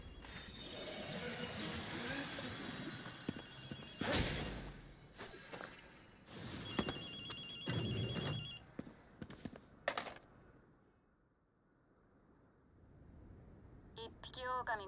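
A telephone rings in Ghostwire: Tokyo, a bright repeated bell burst standing out midway through shuffling movement, footsteps and other game sounds. A quiet stretch follows before more clatter.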